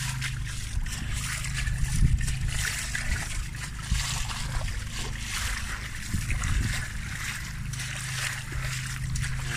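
Floodwater in Townsville in 2019 rushes and splashes continuously, a loud, dense, steady wash of flowing water with a low rumble underneath and no pauses throughout.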